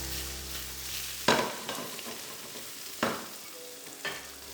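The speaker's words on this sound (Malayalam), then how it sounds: "ഇതിനെ നന്നായിട്ടിട്ട് വഴറ്റി കൊടുക്കാം." Small red onions, finely chopped, sauté in a pan for a Kerala-style beef roast, sizzling steadily up close while a spatula stirs them with several sharp scraping strokes.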